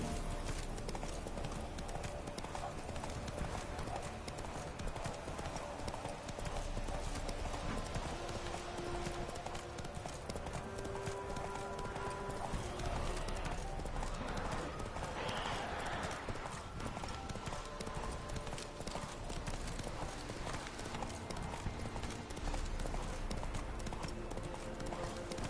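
Hooves of Geralt's horse Roach in the video game The Witcher 3, a steady rhythmic clip-clop of a moving horse under a dense bed of game ambience and music, with a brief spoken line.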